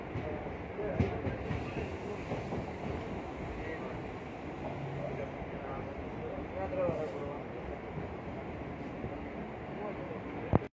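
The Siddaganga Express runs from Bengaluru to Hubli with a steady, close rumble of the moving train car. Voices and cabin sounds sit on top, and a sharp knock comes at the very end.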